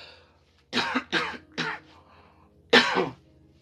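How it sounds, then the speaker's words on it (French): A man throat-clearing and coughing during a Thursday prayer service, three quick harsh bursts followed by a pause and one more loud cough, close and alone without speech. "je commence à tousser"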